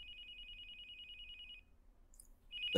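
A cell phone rings inside a police-themed video game, a steady electronic trill lasting over a second, pausing, then starting again as a louder sound cuts in at the end, with low background hum throughout.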